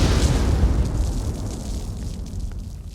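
A loud, continuous explosion rumble from the Forrest Gump Vietnam battle scene rolls on without a break and fades slowly over three seconds. No voices are heard.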